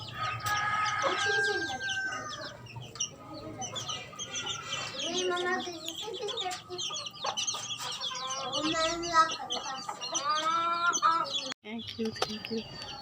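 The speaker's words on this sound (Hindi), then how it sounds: "ये देखिए मुर्गा भी है, मुर्गी भी है।" Chickens, roosters and hens on a farm cluck busily at close range, with a rooster crowing and smaller birds chirping among them.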